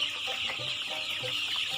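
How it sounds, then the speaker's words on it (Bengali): Chickens on a small poultry farm cluck softly and continuously, a dense flock chatter under a steady high hiss, with no talk. "এই মুরগি গুলাটি আছে এই জায়গায় আমার পাঁচশো পঞ্চাশ পিস মুরগি বাচ্চা আছে"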